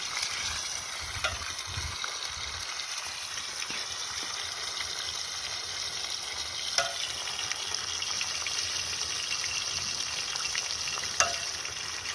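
Eggs frying in a pan, a steady crackling sizzle throughout with a few small pops and clicks, close by and without talking.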